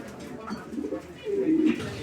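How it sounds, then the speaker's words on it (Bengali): Black Lahori pigeons, a pair, give low throaty coos close by, a couple of rising calls over quiet background with faint voices nearby. "এগুলো হচ্ছে লাহোরি কবুতর"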